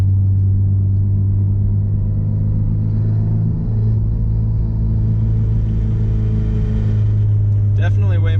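A Porsche 944 sports car engine idles steadily after a cold start with a deep, constant rumble close by, unchanging throughout, with a faint rattle near the end.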